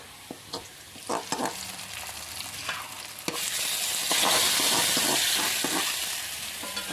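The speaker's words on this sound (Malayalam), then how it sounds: "നമുക്കിത് കറിയിലേക്ക് ഒഴിച്ചു കൊടുക്കാം." A hot mixture of browned onions is poured into a pot of mutton and potato curry, starting with scattered crackles and pops, then bursting into a loud, steady hissing sizzle that persists with occasional spitting pops.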